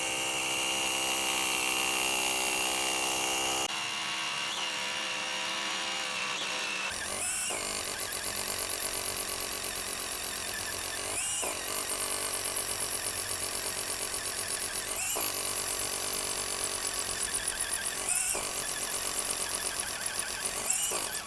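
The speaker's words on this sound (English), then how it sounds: "So this will make a good slab for destroying with hammer drill tests." An SDS rotary hammer drill breaks up a concrete slab, its harsh rapid hammering continuous and close, briefly pausing before resuming with sharp impacts at regular intervals.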